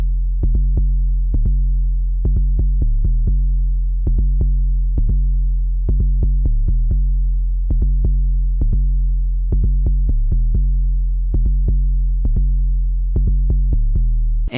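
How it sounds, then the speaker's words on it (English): A loud, bouncy drum-and-bass synth bass line with deep sub tones, short punchy notes in a syncopated repeating rhythm, playing alone without any talk. "I made what I feel like is a pretty bouncy bass line."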